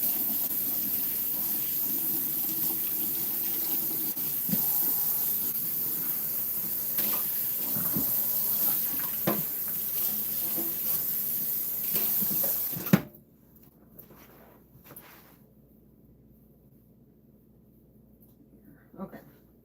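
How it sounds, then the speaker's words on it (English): Tap water runs steadily into a sink during a rinse, a broad continuous rush that stops abruptly partway through, leaving near silence with faint handling sounds. "I'm gonna rinse this off."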